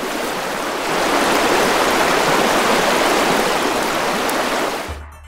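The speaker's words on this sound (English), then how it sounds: "So luckily I came across this little river with a little gorge with some trees on" A small river rushes through a narrow gorge lined with trees inside a spruce forest, making a loud, steady broadband roar heard up close that cuts off abruptly near the end.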